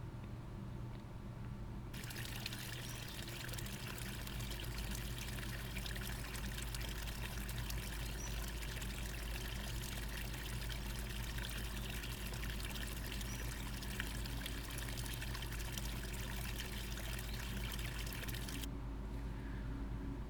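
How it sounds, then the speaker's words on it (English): Small ephemeral stream cascading over rocks near Browns Creek Falls in Colorado, a steady, even rush and trickle of water that holds unchanged throughout and is heard alone at close range. "this is just audio taken with the Sony A7S II, just to give you a sense of what it sounds like at one of these little ephemeral streams."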